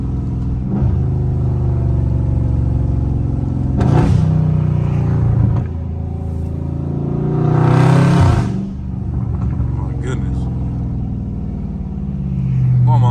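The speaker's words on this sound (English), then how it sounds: "Car sound amazing. Stock exhaust." A Dodge Scat Pack with stock exhaust runs at full throttle, a loud, deep, steady engine rumble heard from inside the car, with swelling revs around a few points and someone talking over it.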